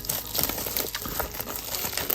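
A 4K UHD/Blu-ray steelbook is unwrapped from its plastic blister packaging, giving close, busy crinkling and crackling with small clicking ticks throughout.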